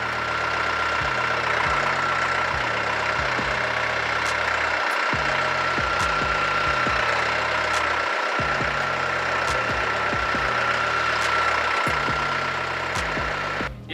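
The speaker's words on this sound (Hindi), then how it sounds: "हम L1 गियर में बिना क्लच दबाए ट्रैक्टर को आगे या फिर पीछे मूव कर पाएंगे" A Solis YM tractor engine runs steadily in L1 gear without the clutch, its diesel chug rhythmic and pulsing, close and continuous with brief dips.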